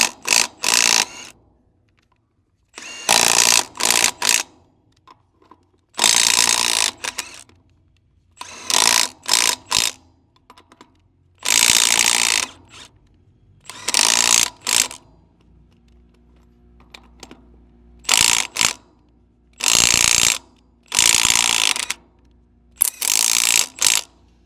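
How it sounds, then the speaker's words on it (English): Vevor impact socket set ratcheting off trailer lug nuts in bursts of a few seconds each, a dozen loud whirring runs separated by short pauses and faint background hum, with no talking. "we're going to try to take off a few lug nuts and then put them back on."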